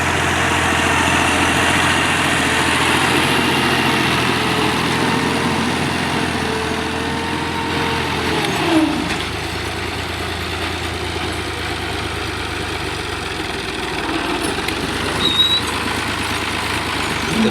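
A 480 model tractor engine runs steadily while planting cotton in a field, a continuous close loud idling drone with a brief dip and clunk midway.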